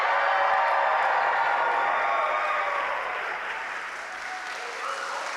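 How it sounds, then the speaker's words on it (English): A live audience at the Horror Game Awards 2025 applauding and cheering, a dense steady wash of clapping that fades slightly midway, heard alone. "can we get a cheer from you guys sat here?"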